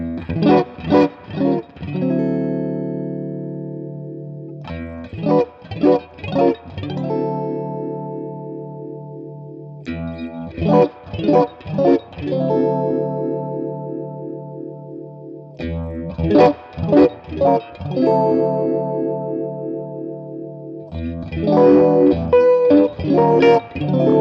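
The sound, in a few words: Walrus Audio Lillian analog phaser pedal, dry then blended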